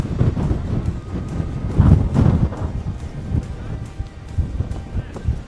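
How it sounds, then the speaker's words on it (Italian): Gusty wind of about 80 km/h buffets the microphone on an exposed Norwegian hillside, rumbling in uneven bursts and surges, close and loud. "c'è un po' di vento, tipo 80 km/h di vento"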